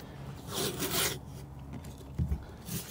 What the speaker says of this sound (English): I take my fleece, I cut it, and then I'm going to cut it in half